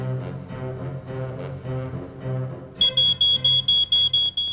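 A smoke detector sounds in a public service announcement: a run of sharp, loud, evenly spaced high beeps over a sustained musical background.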